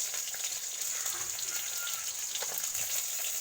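Whole fish, freshly caught catla, sizzling in hot oil in a pan, a steady bright hiss with faint crackles and pops throughout, no voices.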